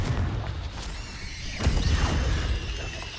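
Confringo fire spell exploding in Hogwarts Legacy combat, a booming burst with crackling debris partway through, layered over continuous game noise and rumble.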